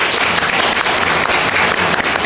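An audience at a historical research lecture on the Aunae independence movement applauds to welcome a guest speaker, loud close dense clapping lasting a couple of seconds with no talk over it.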